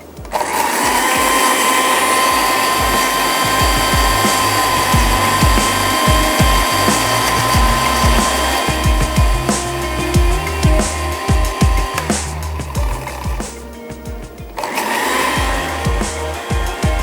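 A loud electric grinder grinds green chilies and coriander, whirring steadily for the whole stretch, with choppy pulsing low rumbles, briefly dipping near the end before roaring again.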